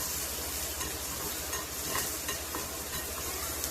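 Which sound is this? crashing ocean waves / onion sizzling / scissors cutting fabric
onion sizzling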